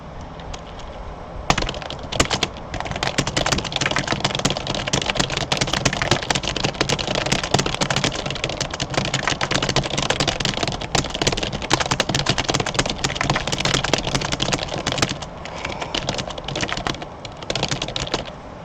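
Rapid, continuous typing on a computer keyboard during typing championship practice, a dense close clatter of keystrokes running almost nonstop with only brief pauses, no talking.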